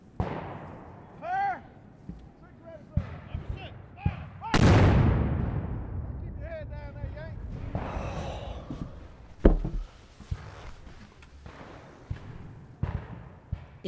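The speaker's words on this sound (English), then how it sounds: "Too close to the cannons out there." Cannon artillery fire on a historical war battlefield, with repeated heavy booms and one huge blast that rings out long, mixed with distant gunfire and shouting voices.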